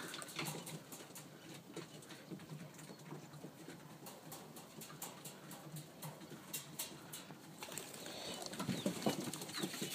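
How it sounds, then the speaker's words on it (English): Racing pigeons shuffle and flap their wings inside a loft, making a soft, busy patter of feathers and scratching. A few louder bursts of flapping stand out near the end. "These are some of the old birds."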